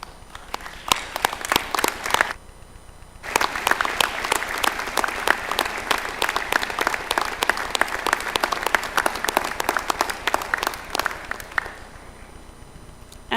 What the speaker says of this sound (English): join me in a round of applause to show our appreciation